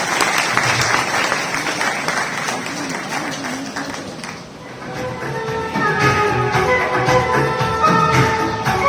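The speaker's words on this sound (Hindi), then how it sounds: "तालियों से स्वागत करें" An audience at a Krishna Janmashtami celebration claps to welcome a performer, loud applause that dips briefly midway before music and singing come in under the clapping.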